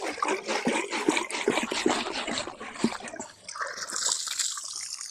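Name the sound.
water from hose flushing Toyota Celica cooling system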